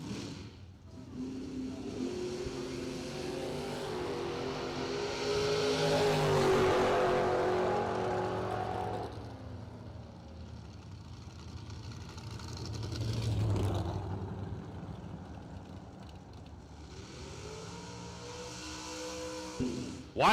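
Drag racing cars, including a dragster, roar down the strip at an event with a wheelie contest, heard from a distance as a long swelling engine drone that rises, fades, and returns with a second pass; no talking.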